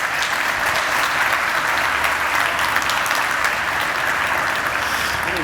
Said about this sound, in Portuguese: Uma salva de palmas para o Jorge.